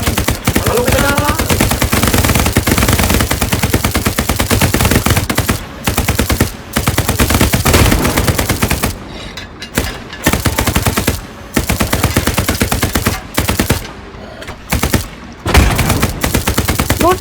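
Machine gun fire in the World War II shooter Hell Let Loose: long, loud, rapid bursts of automatic gunfire with several short pauses between volleys, close and dominating the scene.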